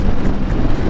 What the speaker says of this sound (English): It's pretty windy still right now.